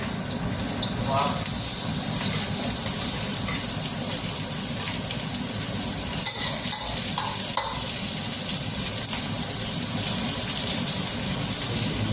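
Chopped chicken giblets sizzle and crackle in a hot pan while being stir-fried, a steady frying hiss with occasional clinks of a utensil.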